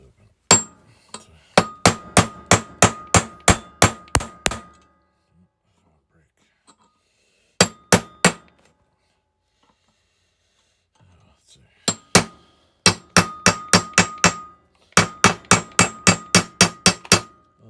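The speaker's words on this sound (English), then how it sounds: "Chisel it open." Hammer blows drive a chisel against the steering-stem bearing races of a Honda motorcycle's triple tree. Sharp metallic strikes come close and loud in rapid bursts of six to ten, separated by pauses, with a few isolated double hits in between.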